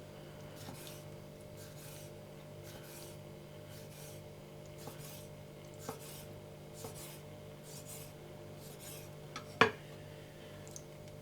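A knife slicing a cleaned squid into calamari rings on a board gives faint, soft cutting strokes at an irregular, unhurried pace, one sharper knock near the end, over quiet background hum.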